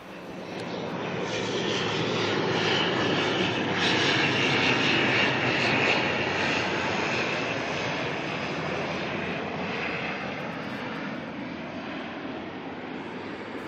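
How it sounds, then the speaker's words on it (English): An ATR turboprop airliner departing Auckland Airport gives a loud, steady, broad engine roar that swells and then eases slightly, with no talk over it. "Well, this ATR heading out, it's waiting for the next ATR that's coming in"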